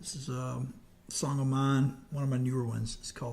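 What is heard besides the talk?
No everyday noise stands out behind the speech.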